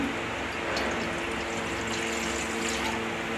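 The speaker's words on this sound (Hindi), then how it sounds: "तो मैं यहाँ पर थोड़ा सा पानी डालूँगी" Water poured into a pot of thickened dal cooking on the stove, a steady soft liquid wash that runs continuously and fairly close, with no talking over it.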